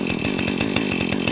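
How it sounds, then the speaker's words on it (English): A 70cc chainsaw cuts through red oak tops, its engine holding a loud, steady, rasping buzz close by with a rapid pulsing texture throughout. "70cc chainsaw to cut through this wood or not."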